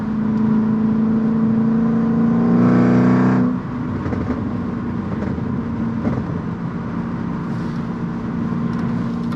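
A Mercedes C55 AMG with straight-pipe exhaust, Kleemann headers and valved mufflers pulls hard through third gear, its loud droning engine note rising steadily before lifting off into a lower, steady cruise with wind noise.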